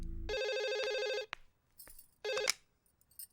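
Two bursts of a landline telephone's electronic ringtone sound close and loud in a family home, separated by a short pause with faint background noise.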